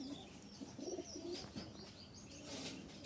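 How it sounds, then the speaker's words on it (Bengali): A male pigeon coos quietly in a loft, a few soft low murmuring calls with light rustling, faint and close, with no talk. "অনেকে ডাক চান যে ভাই নরের ডাকটা দেখেন, এই হচ্ছে নরের ডাক।"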